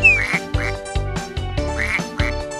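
Cartoon ducks in the Baby Panda's Carnival children's game quack loudly and repeatedly in quick bursts over a bright musical backing, with no talking.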